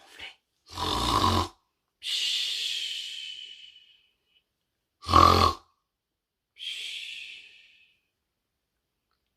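A voice imitates the loud snoring of a sleeping giant in a children's picture book: two cycles of a deep, rasping inhale followed by a long, hissing exhale, close and otherwise silent.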